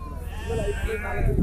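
A goat bleats in a short wavering cry close by at a weekly market, with a person speaking at the same time.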